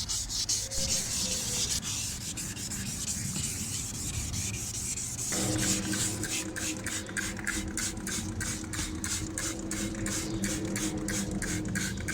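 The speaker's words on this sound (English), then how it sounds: "we'll sand down the headlight some more, getting it refined" Steady abrasive sanding rasps continuously up close on a plastic car headlight, shifting partway through to a faster, rhythmic back-and-forth scrubbing with a faint mechanical hum.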